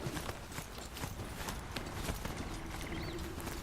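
In Horizon Zero Dawn, a ridden Charger machine mount walks with steady, close clip-clop footsteps against a busy game soundscape, with no talking.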